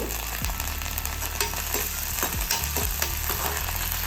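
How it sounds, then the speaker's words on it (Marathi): Ginger garlic paste and chopped curry leaves fry with onion in a pan, producing a steady close sizzle broken by a few stirring scrapes over a low background hum. "आता यामध्ये आपल्याला आलं लसणाची पेस्ट घालायची त्यानंतर चिरून घेतलेला कढीपत्ता घालते"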